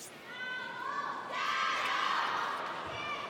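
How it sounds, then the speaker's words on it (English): Chinese fans cheer at a table tennis match between China's Ma Long and Wang Chuqin and a Korean pair, with sustained chanting voices swelling midway and holding steady, moderately distant. "So as the Chinese fans cheer on Jeoung"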